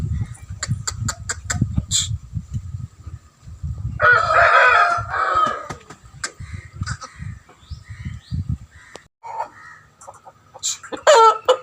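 Aseel breed rooster crowing several times, a loud clear call standing out among other crows and clucks from nearby fowl, with rustling and handling noises between calls.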